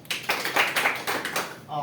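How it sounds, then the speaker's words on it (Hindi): Loud clapping from a seminar audience greeting new members, a dense burst of hand claps filling the room with a voice heard over it. "उनके लिए जोरदार ताली"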